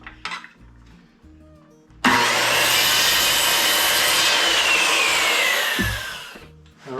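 A saw cuts through the plumb-cut line of a wooden roof rafter for a tractor enclosure, a loud steady rasping cut that runs for about four seconds after a few quieter taps, then winds down.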